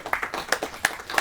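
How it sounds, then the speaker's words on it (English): Hands clapping in a short burst of applause from an audience at a leadership panel event, with several sharp claps spaced across about a second, moderately loud and without talk. "So let's clap up for Wally for having a great"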